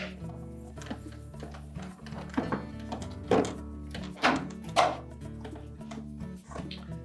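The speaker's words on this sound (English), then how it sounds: "snap those tabs down into place" Several sharp plastic clicks and snaps at irregular intervals, close up, over a low steady hum, as plastic tabs of a GE dishwasher door latch striker snap into place.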